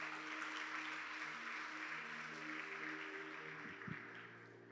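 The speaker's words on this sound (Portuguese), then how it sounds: "Vamos aplaudir Jesus então," A church congregation claps for Jesus during a sermon, heard as a faint, steady wash of distant applause over a low electrical hum. The clapping fades slightly toward the end.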